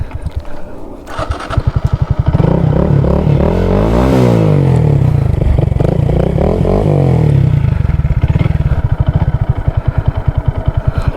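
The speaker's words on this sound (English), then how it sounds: "Bike's sounding pretty good." A 2022 Honda Grom engine runs steadily and loud, its low chugging pulse swelling as the revs climb and fall back partway through, with no voices over it.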